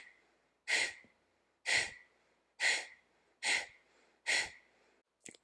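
Five strong, evenly spaced breaths during a yoga practice, loud and close, each a sharp airy exhale with quiet gaps between, plus a short final breath at the end.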